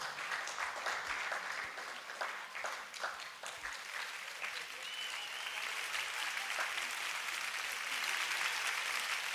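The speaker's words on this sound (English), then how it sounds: "Please give her a round of applause." An audience at a law week town hall meeting gives sustained applause, steady clapping that continues for about nine seconds at moderate distance, with no talk over it.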